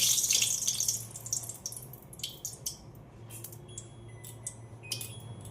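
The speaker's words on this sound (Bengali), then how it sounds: "হাতটা সাবান দিয়ে ধুলাম" Hands being washed with soap under a running tap, with faint splashing and trickling water that is louder at first, then settles into soft, intermittent dripping and splashes.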